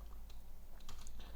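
Quick keystrokes on a computer keyboard as a command is typed into the OpenSees program, a short run of light, close, irregular clicks with no talking.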